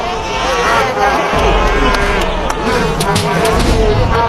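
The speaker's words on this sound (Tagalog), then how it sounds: "hiyawan ang mga boxing fans" Boxing fans roar during the final round of a bout, a dense, loud, continuous crowd din with shouting mixed in and a commentator's voice talking over it.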